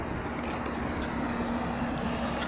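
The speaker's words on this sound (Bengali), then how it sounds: "একদম আরেকটি ট্রলার আসছে, পরপর কিন্তু ট্রলার এখন বেরিয়ে যাচ্ছে একদম সাগরে" A fishing trawler's engine drones steadily on a river in the Sundarbans, a faint, even hum without voices.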